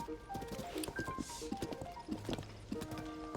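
Horse hooves clop steadily across an old bridge in The Legend of Zelda, a quick rhythmic run of close hoof strikes with light background sound.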